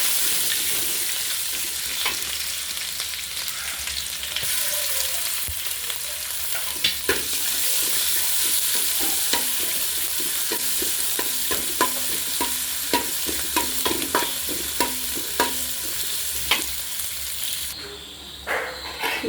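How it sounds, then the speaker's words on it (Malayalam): Ginger garlic paste sizzles and crackles in hot oil with mustard seeds, fennel seeds, cinnamon and cloves, a steady loud frying hiss with scattered pops and stirring scrapes throughout. "ഇഞ്ചി വെളുത്തുള്ളി പേസ്റ്റ് ഇടുവാണ്"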